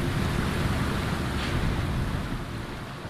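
Steady rushing water from Final Fantasy 7 Remake, a dense, continuous wash with a gently undulating level that eases slightly toward the end, with no voices.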